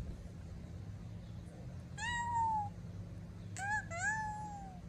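A person's voice imitates a cat, giving one drawn-out meow and then two quicker meows close together, clear and close over a low steady background hum.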